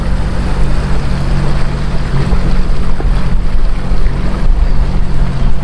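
A Scarab 165 jet boat runs out on a lake, a loud, close, steady engine roar mixed with rushing water and wind buffeting.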